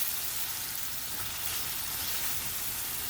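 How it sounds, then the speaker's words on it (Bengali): Spiced paste sizzles in hot oil as the masala finishes frying for salted hilsa, a steady close crackle and hiss with no pauses and no talking. "মশলাটা কষানো হয়ে গেছে, তেলটা উপরে চলে এসছে।"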